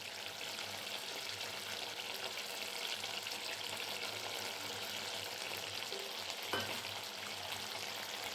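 Mustard oil poured over freshly roasted cauliflower gives a steady, broadband sizzle and crackle, fairly quiet and continuous throughout, with one brief sharper clink near the end and no talking.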